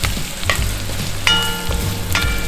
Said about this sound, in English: Once the butter melts, I'm going to add in my sausage to bring out the flavor.